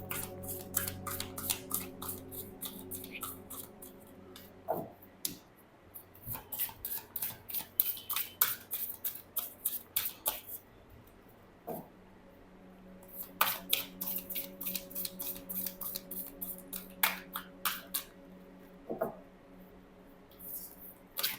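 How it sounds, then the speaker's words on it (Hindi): Tarot cards are shuffled and drawn close and quietly, as a long series of crisp riffling flicks and snaps in bursts separated by brief pauses. "पहले मैं कार्ड निकाल लूँ उसके लिए।"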